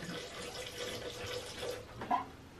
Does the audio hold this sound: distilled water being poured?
yes